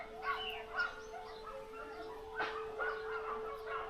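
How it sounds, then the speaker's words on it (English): A few distant dog barks ring out over a quiet outdoor background in Bulgaria on National Day, with a steady low hum, spaced irregularly. "If you can hear the dogs barking."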